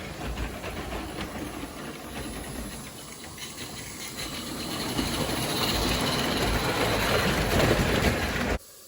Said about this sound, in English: it's so exciting to see this narrow gauge locomotive today